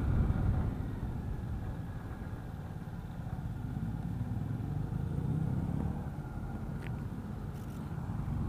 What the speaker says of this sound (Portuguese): Deixa o cara da moto passar.